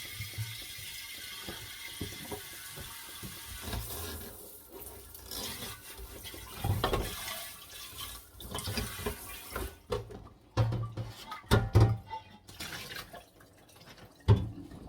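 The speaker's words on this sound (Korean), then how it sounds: "수도꼭지도 들어서 물이 빠질 수 있도록 해놓고 씻으시는 게 좋아요." Water runs and drips around the tap of a water jar being washed, with intermittent splashes, trickles and a few clicky mechanical knocks from the tap, growing busier toward the end.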